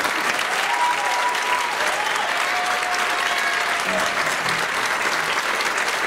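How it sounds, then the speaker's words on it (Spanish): Audience applause for the musicians of a big band and youth symphony orchestra, a dense, even wash of clapping that holds steady for several seconds, with faint tonal sounds underneath and no talk. "Quiero pedir un gran fuerte aplauso a todos nuestros excelentes músicos y"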